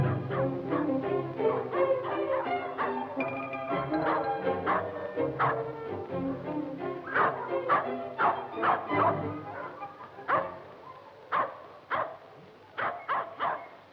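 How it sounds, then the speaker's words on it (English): A poodle yaps and barks in quick irregular bursts with a few whimpers, close and fairly loud, the barks coming sparser and sharper toward the end. "That, my dear, is a poodle."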